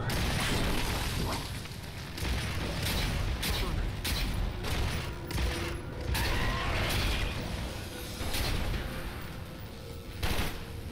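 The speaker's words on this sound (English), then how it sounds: "Let's reload me Snipertron." Snipertron sniper rifle being reloaded in the video game Warframe, with mechanical clicks and creaks of the reload under dense, constant game noise and scattered distant gunfire.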